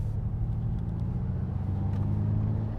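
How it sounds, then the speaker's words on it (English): A Ford Mustang Mach-E RWD California Route 1 electric car accelerates hard, heard from inside as a steady low road and tire rumble with a faint motor whine, no voices. "Let's put it under unbridled here for a quick acceleration test."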